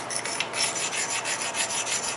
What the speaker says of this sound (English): you're still going to want to give this a really good grind